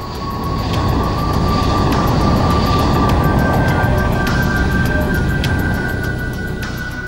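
Lockheed C-5 Galaxy military transport aircraft taking off, a loud, steady broadband jet roar that holds strong throughout and eases slightly at the end, with a thin high whine riding above it.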